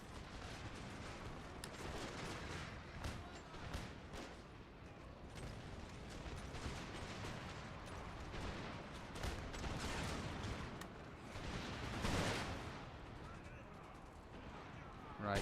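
Musket volleys in the strategy game Empire: Total War, Prussian line infantry firing in a continuous rolling crackle of shots and booms, dense and loud with a sharp burst near the end.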